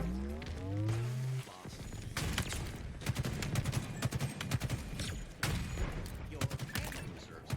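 Rapid bursts of gunfire crackle through a Halo multiplayer match, with dense volleys of shots and impacts layered over game music and effects, continuing in clusters throughout.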